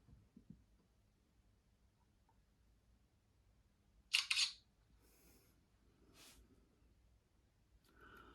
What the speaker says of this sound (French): Je vais prendre une photo